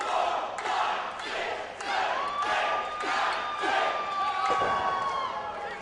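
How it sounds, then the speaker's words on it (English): At a bullrope wrestling match in Robstown, a crowd chants a count in unison and cheers, rhythmic swells of many voices with thuds mixed in, loud and near. "Great crowd here in Robstown, counting in unison with the challenger, trying to urge him on"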